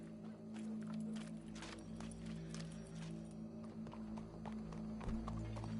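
Steady clip-clop of horse hooves at a walking pace in a PS4 video game, over a constant low hum and background music, fairly close and even in rhythm.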